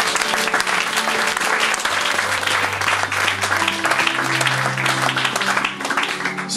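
Church congregation applauding the Lord, a dense, sustained wave of clapping from many hands filling the room, steady throughout with faint voices mixed in.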